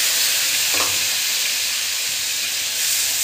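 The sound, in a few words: spices frying in oil for fish curry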